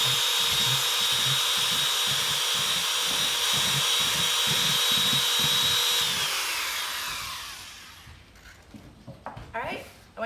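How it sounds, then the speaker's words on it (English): A power drill bores a series of holes in a plastic worm farm bin, its steady high whine pulsing with rhythmic bites into the plastic, then spinning down and stopping, followed by faint clatter and handling noises. "So we're gonna have a drill, and we're gonna create about 20 to 30 holes."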